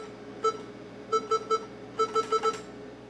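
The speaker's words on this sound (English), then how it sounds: "The whole thing should play for about a second per note, if everything's working correctly." Short electronic square-wave beeps from a Tandy 1000 SX sound chip in three quick bursts: one lone tone, then a group of three, then four rapid notes, over a low hum.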